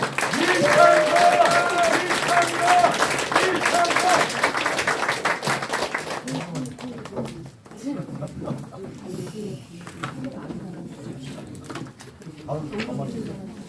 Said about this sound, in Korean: 그럼 오늘의 주인공 이창근 당협위원장님을 다시 한번 심찬 박수로 맞아주십시오.